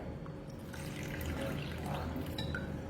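Water poured into a pot while making Gujarati khadi, a steady close splashing trickle with a few drips, running continuously for a few seconds.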